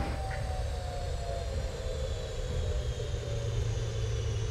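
An airliner in a Prepar3D flight simulator rolls out after landing at New Delhi with thrust reversers deployed, giving a loud, steady, deep roaring rumble and a faint high whine throughout.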